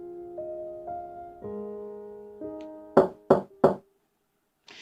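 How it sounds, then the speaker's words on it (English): Three sharp knocks on a door in a visual novel game, evenly spaced and close, following a quiet background melody, with a faint sound after a short pause. "Suddenly, I heard knocking on the door."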